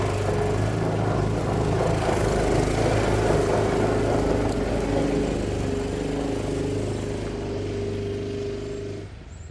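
A Hisun Predator UTV fitted with a swapped big block engine drives along, its steady loud engine drone and rumble continuing for several seconds before easing off at the end.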